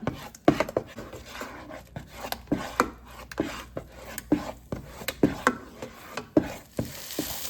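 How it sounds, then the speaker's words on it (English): Eggs and chopped vegetables being scrambled in a pan during meal prep, with steady sizzling under a rapid, regular run of spatula taps and scrapes against the pan, close up and with no speech. "Added in my veggies just to scramble up the eggs some more."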